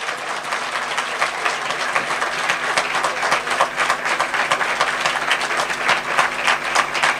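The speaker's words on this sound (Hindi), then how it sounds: "come on, give a good clap for the Lord Jesus" A church congregation at a worship session in Doha, Qatar, gives sustained, dense applause that continues evenly throughout.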